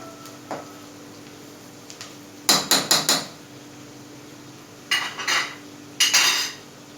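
Metal spoon stirring marinated chicken in a cooking pot on a stovetop, a few short bursts of clanking and scraping against the pot, close by, with quiet pauses between.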